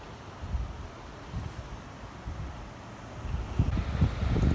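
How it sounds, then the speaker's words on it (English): Gusty wind blowing outdoors on the seafront at Whitstable, a low buffeting rumble against the microphone that swells and grows stronger toward the end, with no voices. "You hear that wind?"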